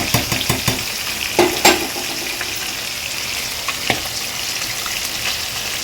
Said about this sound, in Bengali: তিনটে তিনটে করেই ভাজবো নাহলে আবার ভেঙে যেতে পারে